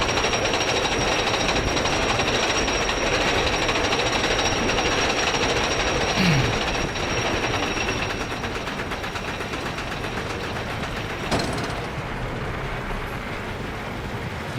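A roller coaster train climbs the lift hill in a Silver Dollar City recreation game, giving a steady, continuous mechanical chain rattle and hum at constant loudness, with a brief clank near the middle and another toward the end.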